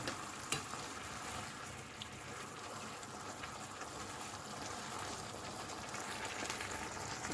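Garlic stir-frying in a wok for Thai stir-fried rice noodles, a steady close sizzle with stirring scrapes running throughout, no talking.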